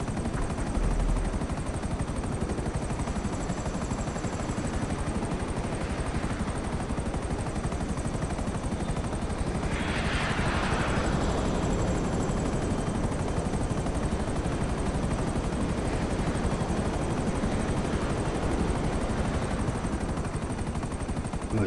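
Helicopters in the GTA V video game give off a constant loud rotor drone with a faint high whine and a passing swell in the middle, steady throughout with no talking.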